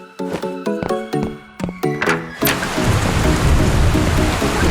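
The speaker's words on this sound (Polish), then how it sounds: "Czekaj, pada." Heavy rain bursts in suddenly halfway through, after a run of bright plucked musical notes, and then keeps up as a loud, steady hiss of falling drops.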